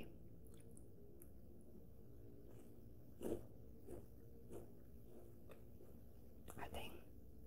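Sticky caramel chocolate being chewed close to the mic in a quiet setting, with soft wet mouth sounds and a few sharper bites scattered through, under a faint whisper.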